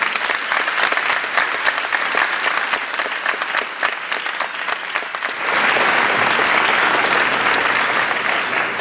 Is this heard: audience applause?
yes